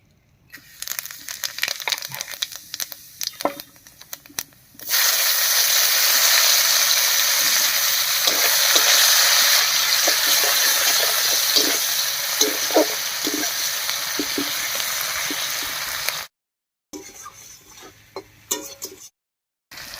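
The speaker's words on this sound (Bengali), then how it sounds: "মাছ ভাজার এই তেলেই ফোড়ন দেব আর ফোড়ন দেব গোটা জিরা আর পেঁয়াজ কুচি দিয়ে" Whole cumin seeds and chopped onion are added to hot leftover oil from frying river bata fish and sizzle loudly and steadily for about ten seconds, with some clinks and stirring before and after.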